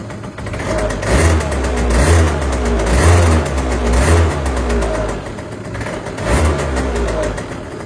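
An MBK Nitro scooter engine runs loud and close, revving in repeated surges over a steady idle, with throttle blips rising and falling throughout; it has not been run in a long time.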